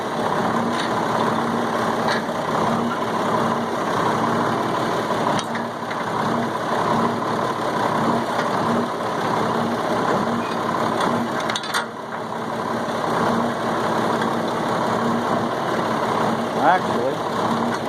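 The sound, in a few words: tractor engine idling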